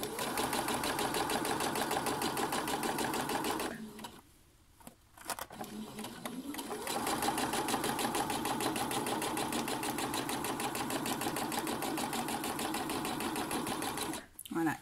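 A sewing machine stitches elastic smocking into fabric, running in long steady bursts with a brief pause partway through, close and fairly loud, with a person talking over it.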